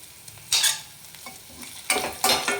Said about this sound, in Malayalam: ഇഞ്ചി നന്നായിട്ട് വഴണ്ട് വരണം.